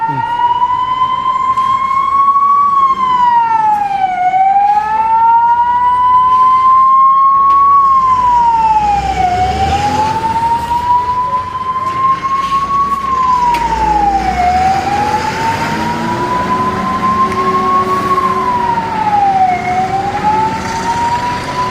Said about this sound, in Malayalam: കൺമണിയുടെ കൂടെ ഒരു ഫയർഫോഴ്സും